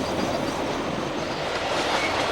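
A freight train of Triple Crown trailers on railroad wheels rolls steadily past through a Pennsylvania town, a continuous loud rumble of wheels and rail noise with faint clickety-clack and no voices.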